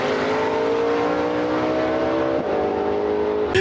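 Gasser drag cars in a classic 4-speed Southeast Gasser race roar down the strip at full throttle, a loud continuous engine howl with a brief dip as a gear shift lands near the end.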